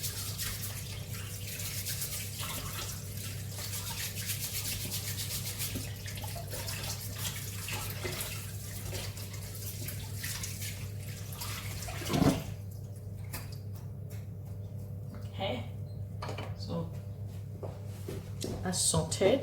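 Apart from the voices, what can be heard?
scrubbing with a brush under running tap water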